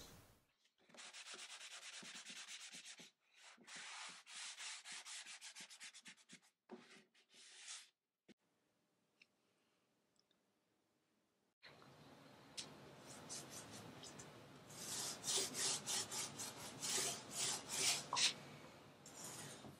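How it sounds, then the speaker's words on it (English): Wooden cedar chest legs get a quick scuff sanding: soft, rhythmic rubbing strokes come in bursts, pause briefly, then return as denser, faster scrubbing. The sound is close but quiet. "For these sweet little legs, we're just going to give it a quick little scuff sand"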